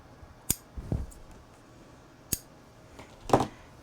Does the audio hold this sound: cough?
no